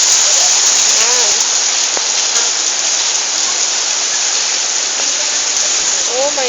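Heavy rain pours down in a loud, dense, continuous roar, with a voice briefly heard underneath the downpour.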